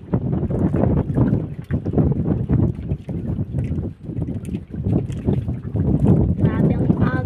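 A strong northeast monsoon wind, the amihan, blows at sea, a loud gusting roar buffeting the microphone over lapping water, with a voice speaking now and then.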